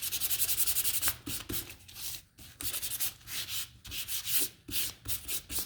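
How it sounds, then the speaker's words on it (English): Hand sanding a painted wooden snowman craft piece, a close, steady scratchy rubbing in rapid back-and-forth strokes with short pauses between passes. "so I'm now just gonna sand it."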